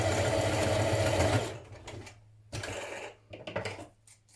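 Sewing machine stitching knit fabric for a dress, running in a steady rapid whir for about a second and a half, then stopping and restarting in short bursts.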